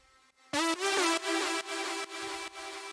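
Bright synth lead layer in the style of a Silent Hussman lead, a held tone with rich stacked harmonics entering after a short pause and pulsing in repeated chopped phrases, loud and alone with no voices.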